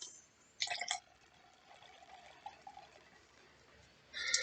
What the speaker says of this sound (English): it smells like it's going to be a great root beer. Let's see how it looks like when you're pouring it.